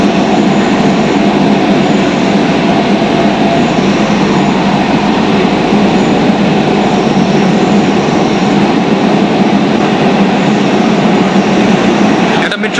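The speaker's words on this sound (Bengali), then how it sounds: "একটা মেট্রো ক্রস করছে" A Kolkata metro train crosses on the line toward Kavi Subhash station, a steady, loud rumbling roar that stays even from start to finish.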